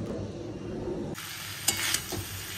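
Potato, pointed gourd and onion frying for chorchori, a steady close sizzle with a few sharp stirring scrapes toward the end.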